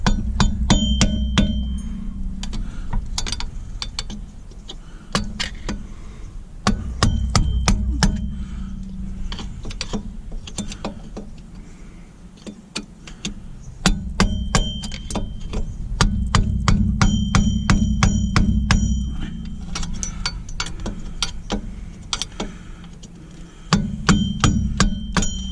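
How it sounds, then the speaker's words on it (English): A screwdriver used as a chisel is hammered against a parking brake clip on a Pontiac Sunfire, giving close, repeated sharp metallic strikes in irregular clusters over a steady low hum. "I don't like using my screwdrivers like chisels like this."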